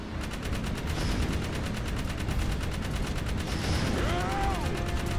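Rapid gunfire from the video game Jak 3, a steady stream of shots running continuously under loud game sound, with a voice briefly heard near the end.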